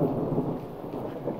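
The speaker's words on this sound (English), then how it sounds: "You hear that thunder?" Thunder from an approaching storm rumbles low and continuously, a heavy rolling roar with rain hissing on surfaces, loud and close, with no talk.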